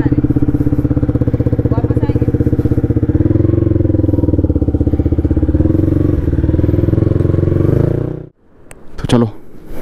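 A motorcycle engine runs loud and close with a steady rumbling throb for about eight seconds, then cuts off abruptly, followed by a few brief clatters and knocks.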